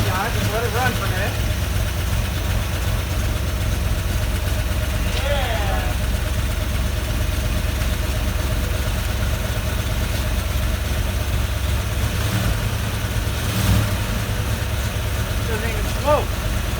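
An early Ford Bronco engine idling after sitting for 26 years, a steady low rumble running continuously and evenly, with faint voices in the background.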